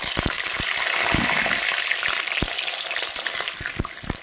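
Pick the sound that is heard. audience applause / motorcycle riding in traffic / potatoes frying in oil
potatoes frying in oil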